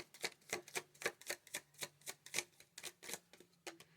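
A small tarot deck being shuffled, a quick run of crisp, close card riffles and flicks in a steady rhythm, fairly soft and with no talking.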